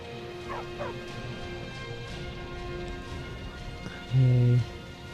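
A dog in Skyrim barks a few times in quick succession early on, then goes quiet while game ambience and a steady electronic hum continue. A brief loud low tone sounds near the end.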